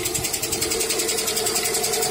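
A Lada Granta engine idles with a fast, regular clicking fault ticking steadily over its running hum, close and continuous for the whole short stretch.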